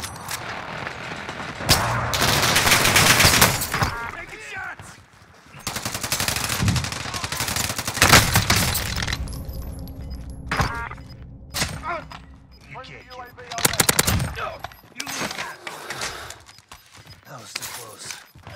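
Rapid automatic gunfire and single shots in the Call of Duty: Warzone Rebirth Resurgence quads match, loud bursts repeating throughout with explosions and mechanical clatter, mixed with in-game radio voices.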